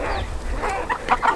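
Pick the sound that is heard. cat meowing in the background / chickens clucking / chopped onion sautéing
chickens clucking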